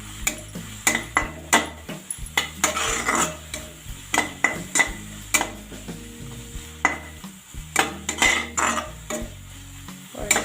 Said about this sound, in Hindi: सबको अच्छे से मिक्स कर लेते हैं।